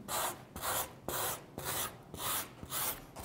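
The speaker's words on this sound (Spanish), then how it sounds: "Paso mi lija por los cuatro costados" Sandpaper rubs along the edges of a decoupaged kitchen placemat to remove excess paper, making rhythmic back-and-forth scratchy strokes, about two per second, close and clear with no talk.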